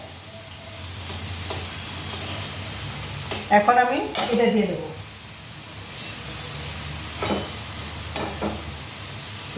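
Soybean dish frying in a pan with intermittent stirring, a steady low sizzle beneath a brief burst of louder scraping and clattering in the middle, with a few soft spoken words over it.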